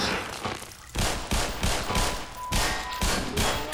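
Pistol gunfire in the video game Half-Life, a rapid series of sharp loud shots at roughly even intervals, close and punchy, with no talk.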